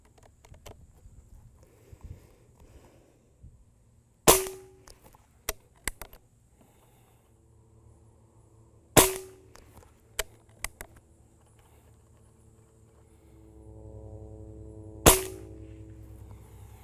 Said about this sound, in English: we're shooting pellets in order from heaviest to lightest.